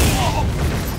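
Dhalsim's Yoga Fire attack in Super Street Fighter IV Arcade Edition, a short, loud fiery burst of about a second, heard together with a character's voice.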